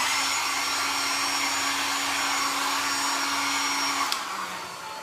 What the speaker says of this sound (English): you can just get your hairdryer and heat it a bit